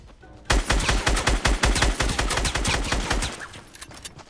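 Fortnite gunfire: a loud, close burst of rapid automatic shots rattles steadily for about three seconds, then thins out and fades.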